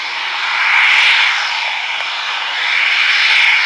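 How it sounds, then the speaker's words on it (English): Eurofighter Typhoon jet at RAF Coningsby, a loud sustained roar with a hissing whine that swells, eases and swells again as it passes, with no voices. "The next plane to turn up will be a Eurofighter Typhoon."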